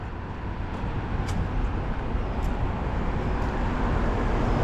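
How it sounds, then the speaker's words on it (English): A giant truck rolls by on Cacilhas Road in Macau, its steady broadband engine and tyre rumble filling the roadside with no pauses or voices. "See, there's a giant truck."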